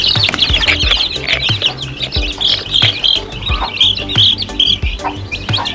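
A brood of newly hatched chicks peeps nonstop in dense, high overlapping chirps, with occasional low clucks from nearby fowl, loud and close throughout.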